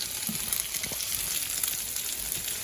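Food for pain perdu sizzles steadily in a hot pan with melting sugar while a utensil stirs it, leaving a soft, constant frying hiss with faint scraping touches.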